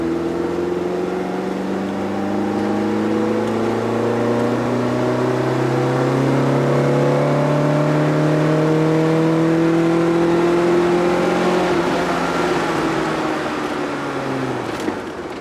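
A Lada Zhiguli fitted with an ITB fuel injection engine revs loud and close, its pitch climbing smoothly through the gears in long sustained pulls, then easing off near the end.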